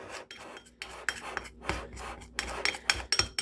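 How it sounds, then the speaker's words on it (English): Keto bread batter being stirred with a fork or spoon, giving irregular scraping and rasping strokes against the bowl, close and moderately quiet with no talk. "I haven't decided if a fork or the spoon works better to mix this in, but either way, you just mix it up real good"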